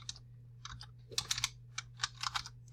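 Fingers typing on a computer keyboard, with uneven bursts of sharp plastic key clicks, some quick runs of several keystrokes and short pauses between, close and clear over a faint low hum.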